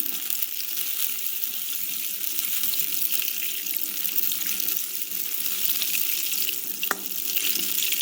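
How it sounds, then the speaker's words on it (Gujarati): Butter melting in hot oil for dhaba-style paneer bhurji, a continuous close, even sizzle and hiss with one faint click partway through. "બટરને આપણે તેલમાં થોડું મેલ્ટ થવા દઈશું."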